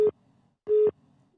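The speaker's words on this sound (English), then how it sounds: "Okay, sorry about that beeping." Two electronic beeps from a phone, a short one followed by a longer tone about half a second later, loud and close with quiet between.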